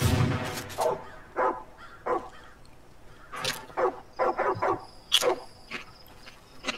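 A dog barks repeatedly in Far Cry 5, sharp separate barks at irregular intervals over quiet outdoor ambience with faint insect chirps.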